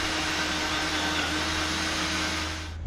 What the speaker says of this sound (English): Then just going to remove this, drill my hole.